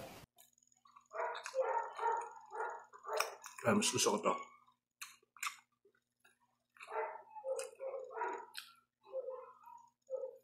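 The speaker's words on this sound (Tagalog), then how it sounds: "Maingay yung aso." Dog barking in short repeated yaps in a quiet room during a food review, close and clear, mixed with a person talking and chewing.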